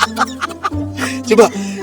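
A chicken gives a run of short, close clucks in an uneven rhythm, with a steady low hum underneath.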